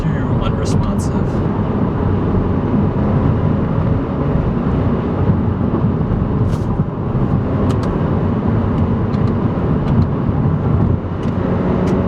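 A Kia Optima SX Turbo sedan with an automatic gearbox accelerates, its engine and road noise a loud, steady roar from inside the cabin while people talk over it.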